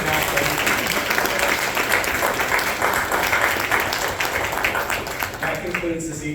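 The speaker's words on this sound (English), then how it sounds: "So I think we should give a round of applause for the Graff." Audience members at a school board meeting give a round of applause, a continuous bed of clapping that tapers off near the end as a voice starts to speak.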